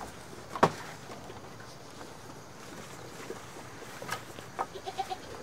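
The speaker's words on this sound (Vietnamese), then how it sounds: "Tự dưng giật mình con dê này cô bác ạ." A goat at a rural countryside home lets out one sudden, fairly loud bleat, followed by a few fainter, scattered bleats and rustles further off, with no talking.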